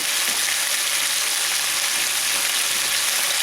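Garlic and onions fry in olive oil in a saucepan over medium heat, giving a steady, loud, close sizzle that holds evenly throughout without pause.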